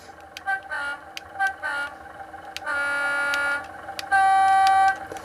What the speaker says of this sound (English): On British diesels, they typically have a dual horn capability.